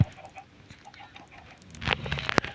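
A hungry chicken clucks softly a few times close by, followed by a couple of sharper squawks near the end.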